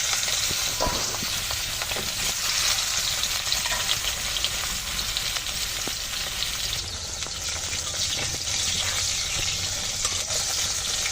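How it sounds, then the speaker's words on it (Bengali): Rohu fish pieces rubbed with turmeric and salt sizzle steadily in hot oil, a dense continuous crackling frying sound with no one talking. "তেলটা সুন্দর গরম হয়ে গেছে, আমি এখন এই হলুদ লবণ মেখে রাখা মাছ দিয়ে দিচ্ছি।"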